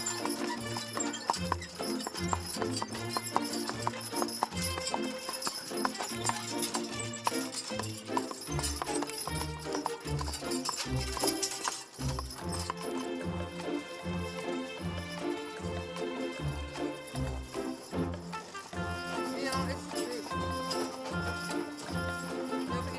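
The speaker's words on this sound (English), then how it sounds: "Drawn by a pair of reliable Belgian draft horses" A pair of Belgian draft horses pull a wagon toward town past Horseshoe Mountain, their hooves clip-clopping in a steady, even rhythm throughout, moderately close and unbroken.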